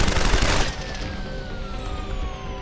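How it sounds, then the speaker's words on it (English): Enemy gunfire bursts through windows in Deus Ex: Human Revolution Director's Cut, a loud dense volley over the first half second, then a fading ringing tail with a descending tone. "They can actually shoot through the windows now"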